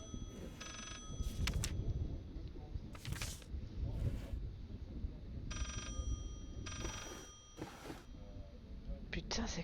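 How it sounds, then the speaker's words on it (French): Telephones ring repeatedly in the horror video game Layers of Fear, in short bright bursts spread through the scene over a low dark ambient rumble, while someone talks throughout. "il y a des téléphones qui sonnent partout."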